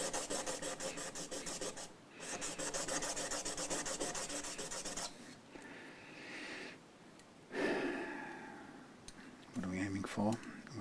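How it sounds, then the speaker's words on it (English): Steady rhythmic rasping of hand sanding a part of an Epiphone EJ200 acoustic guitar, stroke after stroke, with brief pauses and shifts in pressure, close up. "I'm going to do it with this little end sanding thing here"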